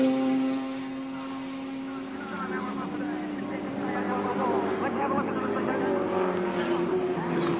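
Touring race cars roar around Adelaide International Raceway during a 1983 ATCC round, with a steady droning engine note that builds over several seconds, close and loud beneath a commentator's voice.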